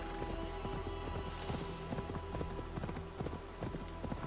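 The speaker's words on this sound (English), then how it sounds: "Right, we're riding." Horse hooves clip-clop in a quick, steady rhythm while riding in the video game Assassin's Creed Valhalla, fairly quiet under a dense ambient wash.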